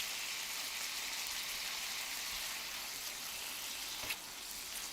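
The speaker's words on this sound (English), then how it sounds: "making sure every bit of goodness is scraped up from the bottom of the skillet" A skillet sizzles steadily as its bottom is scraped, a bright hiss holding throughout with one brief sharper clink of the utensil near the end.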